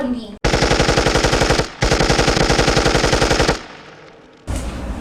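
A machine gun fires in rapid, loud, close sustained bursts, two long strings of shots separated by a short gap, then a pause and another burst, in the Jurassic World Dominion game.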